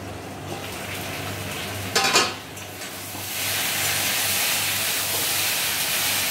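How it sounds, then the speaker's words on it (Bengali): Ginger sautéing with vegetables in a covered pan for sukto, a steady low sizzle broken by a sudden burst of hissing steam around the middle, then a louder, broader hiss that holds to the end, with no talking. "একটু সময় আদাটা কষবে, তার সাথে সাথে সবজিগুলো সেদ্ধ হবে।"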